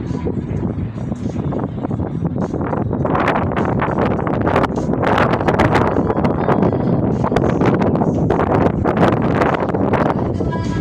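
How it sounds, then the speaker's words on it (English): Steady, heavy wind roaring across the microphone, broadband and continuous with gusty swells throughout, no voices. "it's getting pretty windy here as well"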